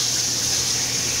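Steady rush of tap water running continuously as food is washed under it in a home kitchen, a close, unbroken hiss with no talking.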